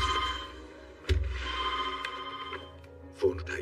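A telephone rings with a harmonic electronic tone, its ring pattern repeating under nearby voices talking.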